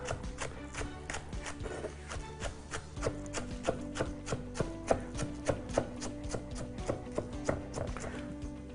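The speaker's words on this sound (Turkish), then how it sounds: "Onları da böyle ince ince doğrayacağım" Rapid, steady knife chops slice spring onions thinly on a board in a quick rhythm, with faint kitchen clatter underneath.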